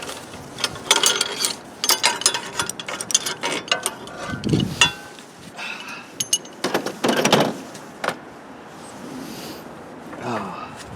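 Metal ratcheting clicks and clanks come from a puller being worked loose from the engine of a Kohler CV16S-powered Scotts lawn tractor, in close, irregular bursts with pauses between them.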